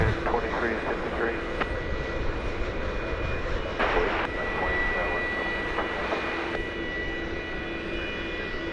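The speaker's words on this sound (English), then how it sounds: "There's that Dreamliner just going to Phoenix." A Boeing Dreamliner jet roars steadily during takeoff at DFW Airport, a broad continuous engine rumble heard from a distance for the whole stretch, with a few brief clunks and voices faintly mixed in.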